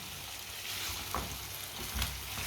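Vegetable sabzi being stirred in a pan while it cooks, with a steady low sizzle of frying and a couple of brief scraping stirs, close and moderately loud.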